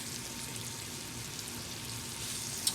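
Steak frying in butter in a skillet gives a steady close sizzle with soft crackling and one sharp pop near the end, no talking.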